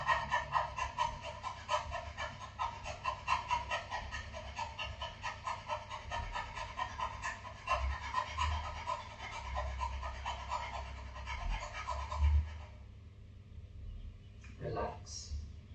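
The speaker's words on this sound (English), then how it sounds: "stretch the tongue out and freely do the dog breathing as fast as you can" A person does yogic dog breathing with the tongue out, panting very fast and evenly, close and loud, for about twelve seconds before it stops; a brief voice follows.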